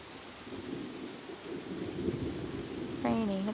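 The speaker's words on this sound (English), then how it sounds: "It's raining. See, look at the drops." Steady rain pours down, a broad hiss with dense patter close by and a low rumble under it, and a voice briefly sounds near the end.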